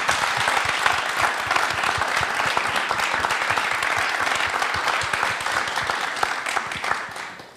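An audience applauds loudly and continuously in a studio setting, dense clapping holding steady for several seconds before tapering off at the end.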